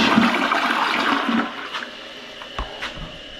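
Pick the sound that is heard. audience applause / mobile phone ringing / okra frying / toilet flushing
toilet flushing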